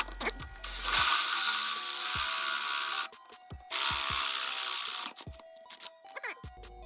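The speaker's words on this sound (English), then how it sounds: "I have to get like a drill bit or something and just drill that out real quick." Two bursts of drilling on a go-kart during throttle cable replacement, each whirring steadily for a couple of seconds, separated by a short pause with light clicks and handling noises.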